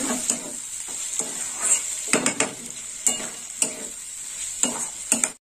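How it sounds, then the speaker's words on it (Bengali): Chopped tomatoes stir-fried in a pan for a prawn malai curry, giving a steady close sizzle with repeated scraping stirs and light clinks of a utensil against the pan. "ভালো করে কষে নেব টমেটো কুচি।"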